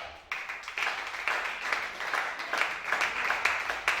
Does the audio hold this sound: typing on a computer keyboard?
no